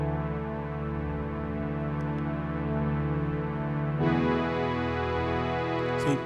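Piano layered with a saw pad synth turned up loud, a sustained harmonic chord that brightens sharply about two-thirds through as the pad swells, with faint note attacks.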